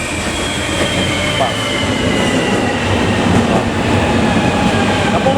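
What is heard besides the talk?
light rail train arriving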